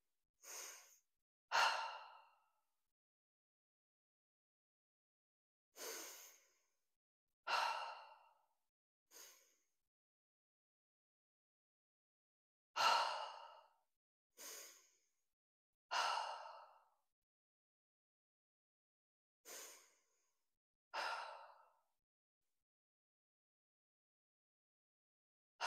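Slow guided breathing exercise: a series of long, audible exhales and inhales, close and alone, spaced by quiet pauses, about eleven breaths in all.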